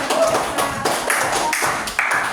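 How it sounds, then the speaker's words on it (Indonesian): A class of fifth-grade students claps for classmates who answered, a ragged, fairly close patter of many hands with a few brief, uneven pauses, and voices murmuring underneath. "Tepuk tangan buat yang tadi sudah menjawab"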